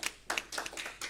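Brief applause from a small gathering at a New Hampshire journalism awards presentation, a few scattered claps arriving in short uneven bursts, fairly quiet and without talk.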